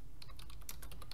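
Rapid keystrokes on a computer keyboard, a quick burst of close, crisp taps in steady succession with no talking.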